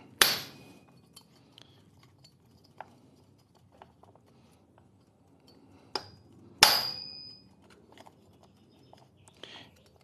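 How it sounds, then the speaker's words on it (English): A hammer smacks a tool on an Efco 165 chainsaw crank, giving a few sharp, ringing metallic strikes spaced several seconds apart, with small clinks and handling noises in the quiet between them. "And then you take your hammer and you smack it."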